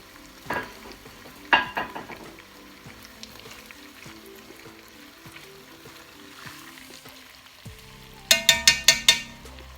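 Stew meat sizzles in a pan with sautéed onion and garlic, a soft steady frying hiss broken by brief clattering bursts of stirring, the final one a quick rhythmic series of scrapes.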